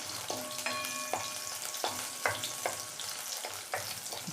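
Onion and garlic frying in a pan for green tomato chutney, a steady close sizzle broken by regular scraping and clinking of a spoon against the pan, with no voices.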